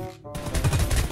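M27 rifle fire in the mobile battle royale game Knives Out, a short dense burst of rapid shots starting after a brief gap, loud and close.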